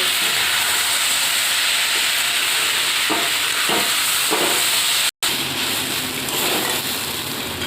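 Dalia khichuri sautéed in a pan, heard as a dense, loud, steady hiss with a few faint scraping strokes and one brief dropout.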